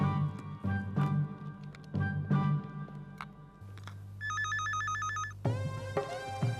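A telephone rings with a rapid trilling electronic tone, heard after some muffled movement and background sounds, close and clear.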